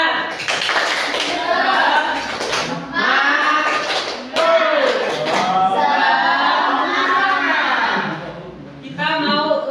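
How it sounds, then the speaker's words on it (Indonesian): Schoolchildren in a classroom doing a rhythmic spirit clap, with quick patterned bursts of handclaps mixed with children's voices chanting and calling along throughout. "Tepuk semangat."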